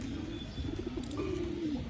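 Local pigeons cooing close by, a steady low rolling coo repeating over a constant background hum, with a few faint higher chirps.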